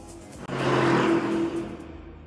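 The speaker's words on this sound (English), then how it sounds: "For lap after lap, the big, heavy Urus clawed at the rear end of the 911 Turbo" A Lamborghini Urus and a Porsche 911 Turbo racing in The Grand Tour video game: a loud, steady engine roar that surges after a brief dip, holds a droning tone, then eases off.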